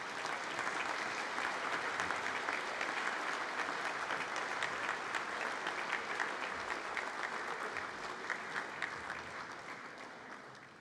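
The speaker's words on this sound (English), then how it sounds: "let's have another round of applause for our Isle of Man Sport Aid recipients" A crowd at the Isle of Man Sports Awards gives a sustained round of applause for Sport Aid recipients, even and continuous dense clapping that holds steady before gradually tapering off at the end.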